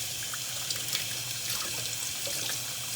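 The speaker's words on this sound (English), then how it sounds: "let's see if this is rinsing off any more dye. Because it says to rinse until the water runs clear." Water runs steadily from a tap into a sink while dye is rinsed out of a doll wig, a close, continuous splashing rush with small irregular spatters and no speech.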